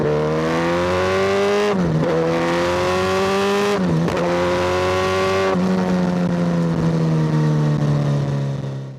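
A Kawasaki Ninja ZX-14R sport motorcycle accelerates hard and close, its engine note climbing steadily through several gears with brief dips at each shift, loud and continuous with no talking.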